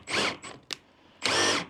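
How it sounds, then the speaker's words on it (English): A power drill whirs in short bursts while boring and countersinking a hole for an 1/8 inch pop rivet in a jon boat casting deck, two brief runs and a longer final burst close by, with no talking. "So we're going to go ahead and drill that hole."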